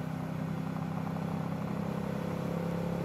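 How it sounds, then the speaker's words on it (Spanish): A motorcycle ride captured on an H2N recorder mounted on the bike, with a steady, close engine drone and wind rumble holding even throughout. "vamos a reproducir aquí un pedacito de audio grabado con la H2N en la moto"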